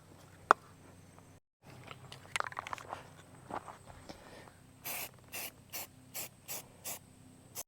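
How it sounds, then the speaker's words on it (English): Filler primer sprayed onto lawn mower parts: after some shuffling and handling noises, a series of short, even aerosol bursts repeats in a steady rhythm, close and fairly loud. "I'm going to do filler primer on the first coat."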